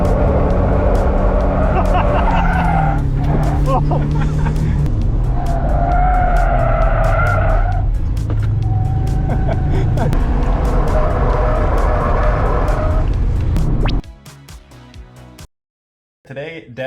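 A Toyota Corolla drifts with a loud engine roar and long, wavering tire squeals that rise and fall, close and continuous for most of the stretch before cutting to brief quieter sounds near the end; a voice is present.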